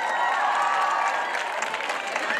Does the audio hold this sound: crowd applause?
yes